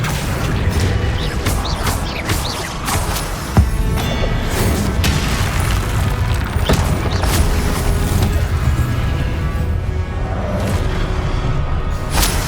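Spell effects in Hogwarts Legacy gameplay: a loud, dense run of magical bursts, crackling impacts and booming blasts in quick succession over a continuous roaring combat backdrop.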